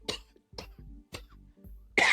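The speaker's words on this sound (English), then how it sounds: "You see how I'm coughing right now?" A series of five dry, close coughs spaced roughly half a second apart, the last one louder and harsher, with quiet pauses between.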